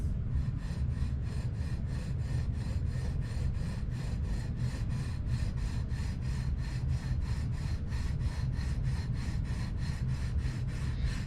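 Stainless steel guitar frets are polished with 1200-grit abrasive, making a close, steady back-and-forth rubbing that repeats in quick, even strokes throughout without pause.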